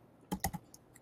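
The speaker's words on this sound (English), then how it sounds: "I think I can hear your keyboard." Typing on a computer keyboard picked up by an open microphone during an online training session, a quick cluster of four or five clicky keystrokes, fairly faint and alone.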